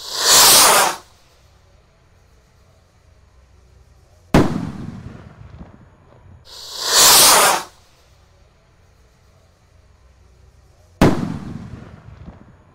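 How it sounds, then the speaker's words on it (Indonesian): Roman candle rocket fireworks lit on Eid eve night: two long, loud hissing fountain bursts, each followed by a sharp explosive crack with a decaying rumble, repeating in alternation. "Oke teman, seperti itu reaksinya mercon roket Roman candle"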